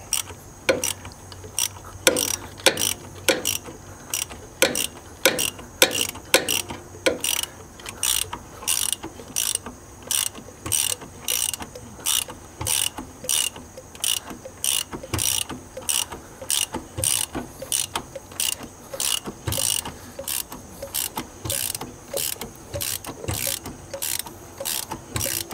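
The long-seized engine of a 1960 Mercedes-Benz 190B is turned over by hand, giving a steady run of ratcheting clicks and mechanical clacks in an even rhythm, close and fairly quiet.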